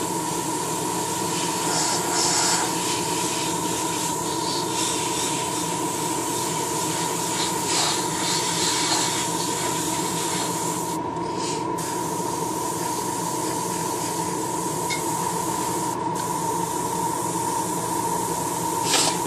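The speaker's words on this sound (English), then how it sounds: "the Tamiya paint just sprays so much better than the Model Flex" Tamiya paint spraying from an airbrush onto a copper-painted model, a steady continuous hiss with a faint constant tone, running unbroken at close range with a couple of brief dips.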